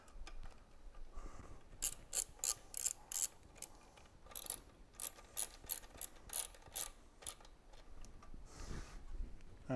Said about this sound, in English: And secure with your 8mm socket.